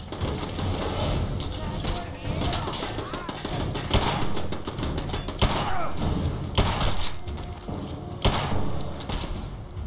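Assault rifle fire crackles through a Fallout 4 firefight as a dense run of sharp shots and thuds, with a voice talking over the steady barrage.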